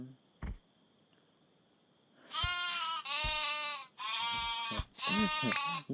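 A sheep in the game MiniWorld gives a series of four loud, close, wavering bleats in quick succession after a brief quiet stretch with a single click.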